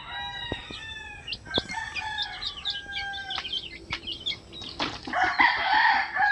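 Gamefowl roosters at an outdoor farm, several crows overlapping at middle distance with clucks, followed by a burst of loud wing flapping near the end, with no talking.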